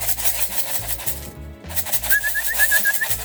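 Young homing pigeons return to their loft after a training release, with soft coos and brief wing flutters and rustling close by. No voices.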